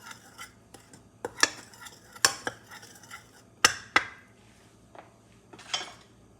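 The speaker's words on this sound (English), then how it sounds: "let's stir this up a little." Breakfast muffin batter being stirred in a bowl with a utensil, giving soft scraping and a series of sharp clinks as it taps the sides, irregular and close, with no talking.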